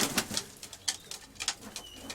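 A pigeon cooing close by among birds in a fancy-tailed pigeon keeper's loft, soft repeated coos with light wing and shuffling sounds.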